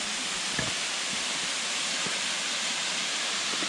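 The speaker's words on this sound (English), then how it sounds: "Here's a closer look at the falls." The 94-foot falls at Ricketts Glen State Park pour in a constant broad rush of water, heard up close with a few faint knocks over the steady roar.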